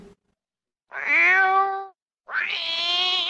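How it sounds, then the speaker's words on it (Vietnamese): A cat meows twice, two clear, drawn-out, close and fairly loud calls separated by a short silence. "Tiếng mèo kêu."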